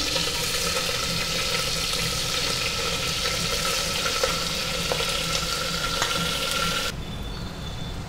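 Chopped onion frying in hot oil with whole spices such as cumin and bay leaf, a steady close sizzle crackling evenly throughout before dropping suddenly quieter near the end.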